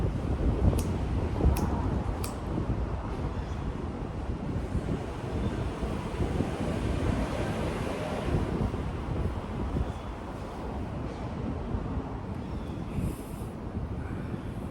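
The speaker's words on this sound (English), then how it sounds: "A little bit windy here, might take me a minute." Steady, loud wind buffets the microphone outdoors in a parking ramp, a continuous broadband rumble with gusty swells and a few sharp clicks near the start, no speech.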